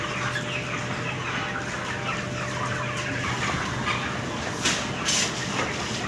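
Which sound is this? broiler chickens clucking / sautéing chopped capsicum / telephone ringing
broiler chickens clucking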